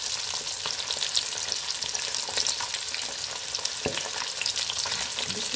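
Fish pieces fry in hot cottonseed oil, a steady dense sizzle and crackle running the whole time with small pops, close and fairly loud, no voices.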